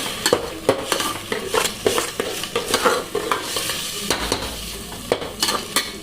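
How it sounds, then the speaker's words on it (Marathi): Masoor dal and peanuts being mixed into masala rice in a pot, repeated loud spoon scrapes and knocks in an uneven rhythm over a soft sizzle, close and without talk. "आता आपण हे मिक्स करून घेऊया."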